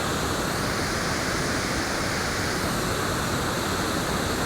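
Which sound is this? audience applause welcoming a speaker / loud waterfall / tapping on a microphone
loud waterfall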